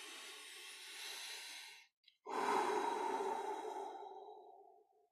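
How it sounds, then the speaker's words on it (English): A deep breath drawn during a guided chakra-balancing meditation, heard as a long close airy exhale, then a brief pause and a fuller inhale that gradually fades, soft and intimate with no talk. "just breathing in"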